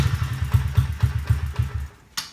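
A Honda CRF50 motorcycle engine is kick-started and chugs in a quick, regular low thudding pulse for about two seconds before stopping, followed by a brief clatter.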